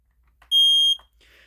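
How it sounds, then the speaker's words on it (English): A smoke detector under test lets out one piercing, steady electronic beep lasting about half a second, loud and close, with faint handling clicks around it and a soft hiss afterward. "We'll go ahead and test the smoke detectors."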